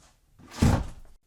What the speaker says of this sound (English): What's he trying to do? Break my door down?